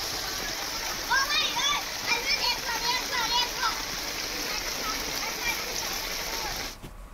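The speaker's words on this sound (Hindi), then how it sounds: "अब जब बारिश हो गई है तो शहर के मुख्य बाजार और कई कॉलोनीज जलमग्न हो गई हैं" Floodwater splashing through waterlogged market streets and colonies in Baran, Rajasthan after heavy rain, a steady broadband wash of moving water with busy voices and chatter mixed in, cutting off abruptly near the end.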